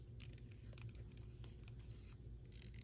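Scissors snip paper for a collage calendar journal, a few faint, close cuts spread over a quiet room.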